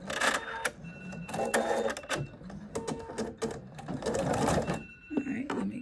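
A mySewnet embroidery sewing machine starts to stitch, making short mechanical clicks and whirring bursts nearby while a person keeps talking over it.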